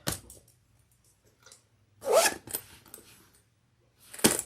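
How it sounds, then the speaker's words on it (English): A zipper on a sewn bag is pulled open in a few quick bursts, with soft rustling of fabric between the close, sharp zips. "So you open it up and look at all the room you have. It opens up wide."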